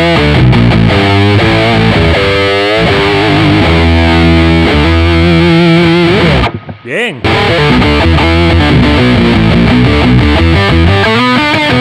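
An electric guitar played through a DOD Meatbox subsynth pedal with distortion added, loud, thick and continuous, with a brief dropout partway through; a voice speaks one short word.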